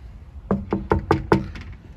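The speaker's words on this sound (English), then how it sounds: "Let's have a knock" Five firm, evenly spaced knocks land on a front door, close and clear, in a quick steady rhythm with no talk.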